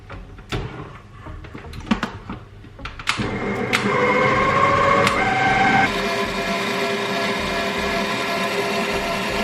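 An electric mixer whisks butter for a birthday cake, starting with a few clattering knocks and then settling into a steady loud whirring drone that shifts pitch partway through.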